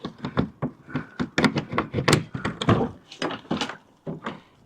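A newly built wooden allotment shed door being forced open, a run of repeated knocking thuds and scraping bangs close by as the tight door is worked loose.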